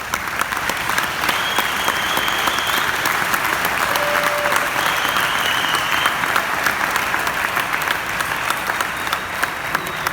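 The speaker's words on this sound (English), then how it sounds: "Let's give them one more big round of applause" A conference audience at a Bitcoin event in Prague applauds steadily and loudly for the full stretch, a dense even wash of clapping with a few whistles.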